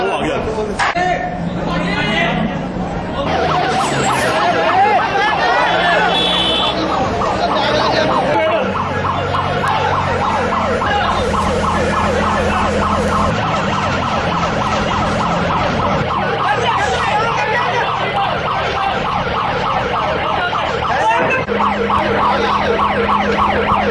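Fire engine sirens wail continuously at a factory fire in Ludhiana, rising and falling over rumbling vehicle engines while people talk nearby.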